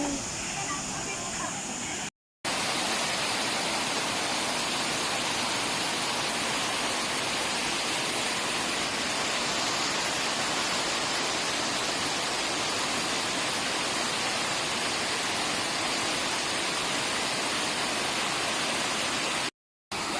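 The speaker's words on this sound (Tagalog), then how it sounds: "Ang ganda ng falls." Engkanto Falls, a waterfall in Camarines Sur, Philippines, roars as a loud, steady broadband rush of falling water that fills the whole clip, with brief cuts near the start and end.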